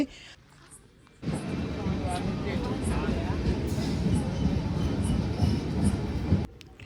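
A train pulls into a station platform at night, a loud continuous rumble of wheels and carriages rising suddenly and holding steady before cutting off, with faint station noise at the start.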